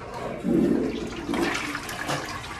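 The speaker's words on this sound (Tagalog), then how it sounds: "Malakas din ang kanilang flush." A toilet flushes nearby with a strong rush of water, surging and swirling for a couple of seconds.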